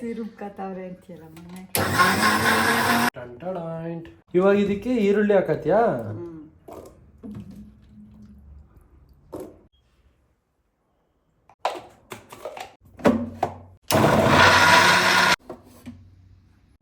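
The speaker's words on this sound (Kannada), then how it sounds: "ಇಲ್ಲಿ ಮಿಕ್ಸಿಲಿ ಇವತ್ತು ಕರೆಂಟ್ ಇಲ್ಲ ಅಂದ್ರೆ UPS ಇಂದ ಮಿಕ್ಸಿನ ರುಬ್ಕತ್ತವ್ರೆ" A mixer grinder running on UPS power and grinding garlic, ginger and onion for a spicy paste in a home kitchen, with two loud, steady whirring bursts of about a second each, and people talking between them.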